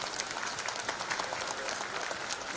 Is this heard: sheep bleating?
no